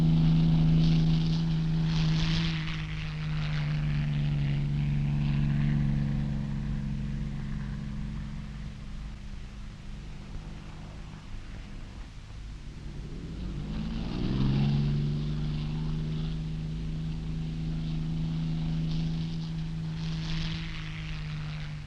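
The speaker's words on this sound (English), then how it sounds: "a Spitfire Mark I, seen here in slow flypast" A single piston-engined Spitfire Mark I propeller plane drones past fairly close in a slow flypast, its steady engine note fading, then swelling again with a pitch shift as it passes.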